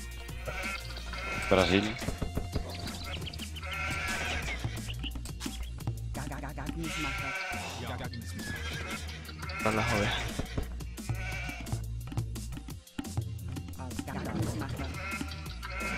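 Sheep bleat repeatedly in an Age of Empires match, short wavering calls that recur through the stretch under steady game effects while someone talks over most of it.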